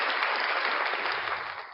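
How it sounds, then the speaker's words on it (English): Steady round of applause from an audience for a producer during a live Saturday-night show, dense clapping that holds briefly and tapers slightly at the end, with no talk over it. "Ladies and gentlemen, round of applause"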